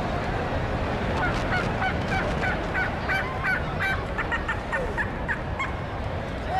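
A turkey gobble call, made to honour wild turkey hunters and conservationists, sounds as a series of loud rapid rattling gobbles over a dense roaring crowd and engine din at a motor race start.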